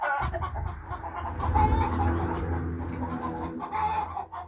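Two broody hens clucking steadily at close range, a dense run of low, throaty clucks with occasional sharper calls over a busy farmyard background.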